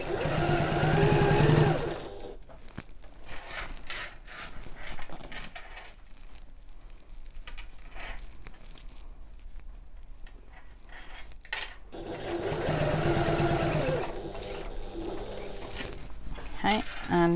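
A sewing machine back stitches along a bulky bag. A close burst of whirring opens the clip, followed by a long stretch of quieter handling and clatter, then another run of stitching near the end.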